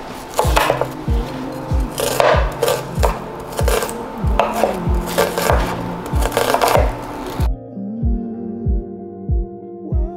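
A quarter of an onion chopped with a knife on a board, a rapid run of sharp, evenly spaced thuds close up that breaks off into a few quieter taps near the end.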